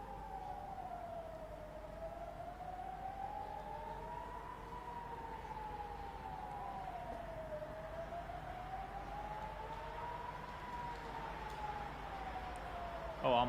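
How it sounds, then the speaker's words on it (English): Air raid sirens in Iran wailing, rising and falling in slow, steady cycles, heard from a distance throughout. "sirens are starting."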